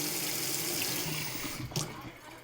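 Hot water pours from a kettle or tap onto saffron in a kitchen while a mushroom risotto is being made, a steady close splashing flow lasting about two seconds before it tapers off.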